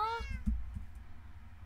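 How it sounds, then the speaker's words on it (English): A cat in the video game Minecraft gives one short, clear meow at the start, followed by faint low thumps and quiet background ambience. "I love cats."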